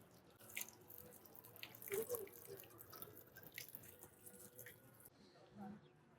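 Water runs from a tap at a sacred well into a bottle, a faint trickling and splashing with drips, heard quietly under some background voices and movement.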